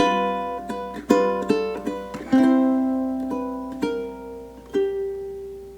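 Classical ukulele etude Andante No. 2 played slowly on plucked strings, with single notes and chords ringing out and decaying and the phrase easing into a held final note.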